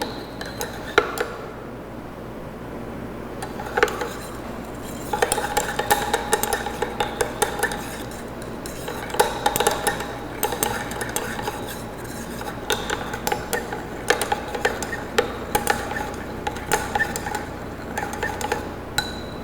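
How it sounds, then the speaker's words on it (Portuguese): Spatula or rod stirring and tapping a heated cream mixture with Lanette N in a lab beaker, a steady run of soft clinks and scrapes, close and mostly alone, with brief faint talk. "Então eu vou mexer aqui mais um pouquinho, né, para solubilizar"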